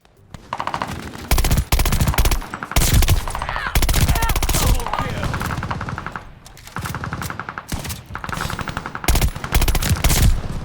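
Bren light machine gun firing in Call of Duty Vanguard, a Second World War shooter, with loud sustained automatic bursts separated by short pauses, close and dominant throughout.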